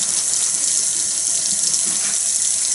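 Tap water runs steadily from a sink faucet during handwashing, a continuous close hiss with no voices over it.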